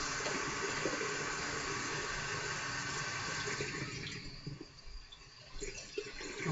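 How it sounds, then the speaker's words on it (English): Water runs from a sink tap to rinse a straight razor and a sharpening stone, a steady broad splashing stream that thins and turns choppier toward the end, with no talking. "I'm going to go over to the sink and I'm going to rinse the razor and the stone and come with clean water"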